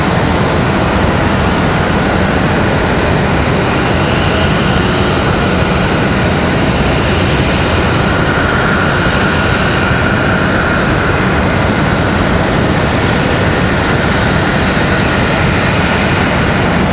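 A Southwest jet airliner at Raleigh Durham International Airport waits to taxi, a loud, steady broadband engine roar and whine holding for the whole stretch with no voices over it.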